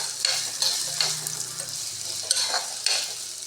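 Raw banana and shallots sautéing in a pan, a steady close sizzle broken by regular scraping stir strokes every half second or so, with no voices.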